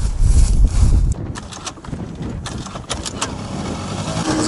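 A Honda Giorno AF24 scooter, left standing through the winter, has its engine started: a low, rough churning burst in the first second, then a steady, softer running rumble with wind buffeting the microphone.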